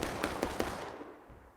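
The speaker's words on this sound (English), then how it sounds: "Again, artillery shell hits, none killed." Artillery shells burst in a Civil War battle video game: three or four sharp, close explosive cracks in quick succession, then a rumbling decay that fades out.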